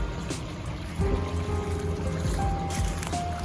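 A creek on a cabin property runs with a steady rushing wash of water, nearby and constant, with faint tonal hums and clicks mixed into the flow.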